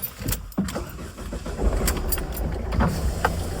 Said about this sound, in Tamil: இந்த டீசல் இன்ஜினை பொறுத்த வரைக்கும் நல்லாவே சவுண்ட் இருக்கும்.